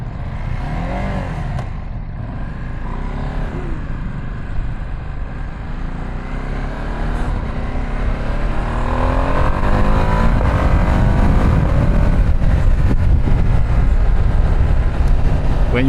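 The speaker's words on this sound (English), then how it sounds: "It's a standard exhaust, but you feel it and you hear it popping." A Ducati Streetfighter V2 S with its standard exhaust accelerates hard in a loud, continuous engine roar that climbs in pitch and grows stronger toward the end; there is no speech.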